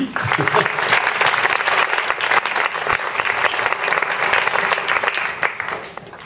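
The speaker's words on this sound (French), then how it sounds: "on l'applaudit" Loud, sustained applause from an audience at a concert featuring a musician with primary school pupils, a thick continuous clapping close by that holds steady before fading at the very end.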